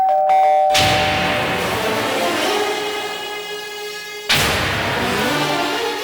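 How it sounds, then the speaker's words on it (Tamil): A bright electronic doorbell chime rings out, its tones sustaining and fading, then a second ring starts abruptly a few seconds later. "அதுக்குள்ள காலிங் பெல்ல வந்து அடிக்கிறான்."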